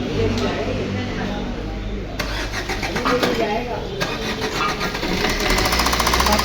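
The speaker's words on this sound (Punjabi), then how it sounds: "ਆ ਤੁਸੀਂ ਵੇਖੋ ਹੁਣ ਗੱਡੀ ਸਟਾਰਟ ਕਰਨ ਲੱਗੇ ਆਪਾਂ" A Maruti Swift diesel car engine cranks and fires up with a steady, loud clatter that fills the clip, with a sharp rise near two seconds and again at four as it revs.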